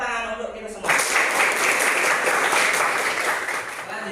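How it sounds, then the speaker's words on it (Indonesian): Applause from a classroom of students breaks out abruptly and holds steady, a dense, close burst of clapping that fills the room without letting up. "tepuk tangan untuk kita semua"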